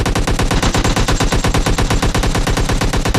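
Rapid automatic gunfire in the video game PUBG Lite, a loud, fast, evenly spaced burst of shots that continues without a break.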